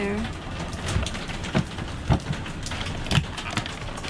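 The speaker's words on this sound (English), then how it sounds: "Oh, it's raining outside." Steady rain patters and hisses throughout, with a few louder drops or splashes landing close by at irregular intervals.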